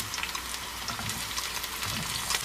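Chopped onion frying over low heat in scallion-infused oil, giving a soft, steady sizzle with light crackling throughout, close and fairly quiet with no talking.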